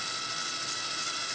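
Ratcheting chuck of a DeWalt DCD708 cordless drill being tightened by hand onto an extended bit, a steady close dense clicking and whirring that continues unbroken at even loudness with no voices.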